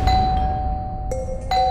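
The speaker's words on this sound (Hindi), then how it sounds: "कौन घंटी बजा रहा है?" An electronic doorbell chimes nearby, a sustained tone followed by two quick higher ding-dong notes over a low background hum.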